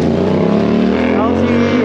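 A car drives past close by, a steady, loud engine drone throughout at a road junction, with a voice speaking over it.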